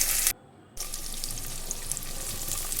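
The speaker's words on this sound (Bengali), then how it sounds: "এইবার পেঁয়াজটা দিয়ে এর মধ্যে ভেজে নেব গরম তেলে পেঁয়াজটা দিয়ে দিলাম" Onion dropped into hot oil with whole spices such as cloves, a loud burst of hiss, a brief near-silent gap, then a steady close sizzle of frying with no talk.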